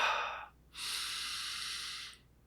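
Two slow, breathy respirations close to the microphone, a short airy inhale followed after a brief pause by a longer, steady exhale, soft and alone in a quiet room.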